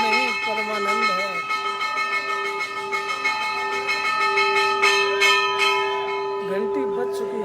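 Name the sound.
temple bell ringing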